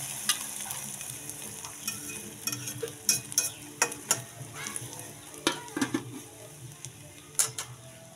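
An egg frying in a pan for a breakfast sandwich gives a soft, steady sizzle under repeated clicks and scrapes of a utensil against the pan, close and moderate in level, without talk.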